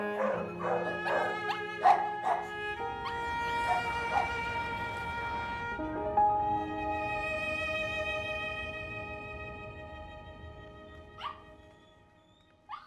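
A tiny, aggressive Chihuahua yaps in a rapid burst of high sharp barks near the start, then gives way to whining whimpers over a steady hum, with a few more yips near the end.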